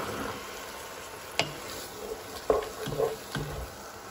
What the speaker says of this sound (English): So the rosé is starting to cook out